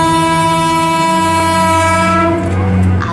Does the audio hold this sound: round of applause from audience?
no